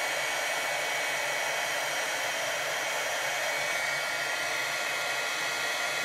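Steady whirring blast of a handheld heat tool warming a craft piece, running continuously and close at a constant level with no talk.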